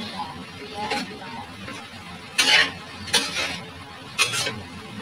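Sisig being stirred in a pan with chili added: repeated scraping and clinking bursts of a utensil against the pan, three stronger strokes later on, under a faint sizzle and low background talk.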